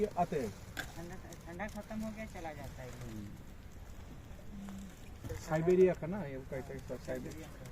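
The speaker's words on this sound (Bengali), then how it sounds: "দেখ পাখিগুলো কি কাছে আসছে" Migratory birds calling over Patratu lake, heard from a speed boat on the water, with faint intermittent calls beneath steady talking voices and a louder burst of activity near the end.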